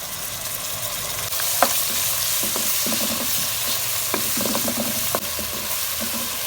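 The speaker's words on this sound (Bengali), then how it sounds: "রসুন বাটা, আদা বাটা, জিরা বাটা দিয়ে একটু কষায় নিই" Garlic, ginger and cumin paste sautés in a pan with a steady sizzle, broken by repeated scraping and clinking strokes of the stirring utensil, close and moderately loud.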